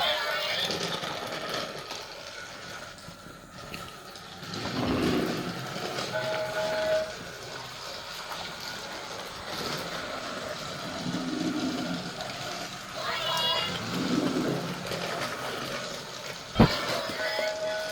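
Thomas toy trains such as Gordon rolling along a toy track and down a bridge, a steady low rumble with faint clicks and a brief sharp knock near the end, while a voice talks over it.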